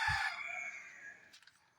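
A native country hen that has laid eggs gives one drawn-out, loud call that fades away, followed by a couple of brief, faint sounds.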